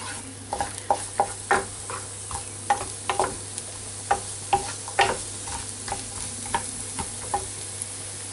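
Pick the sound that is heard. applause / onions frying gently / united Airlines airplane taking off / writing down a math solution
onions frying gently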